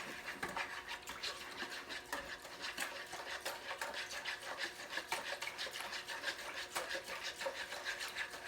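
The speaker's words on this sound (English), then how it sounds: "Now we're going to whisk all of this together." A whisk scraping briskly through a deer jerky marinade with red pepper flakes in a bowl, a quick, close, rhythmic rasping that repeats steadily throughout without talk.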